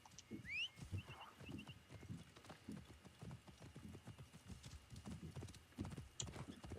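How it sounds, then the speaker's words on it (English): Horse hooves clip-clop at a steady pace in Assassin's Creed Origins, with a neigh near the start, close and continuous. "I'm going to call my horse."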